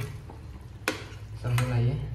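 Bamboo shoot drops into a cooking pot and gets stirred, with a couple of sharp utensil knocks against the metal and a soft scraping, close by and fairly faint.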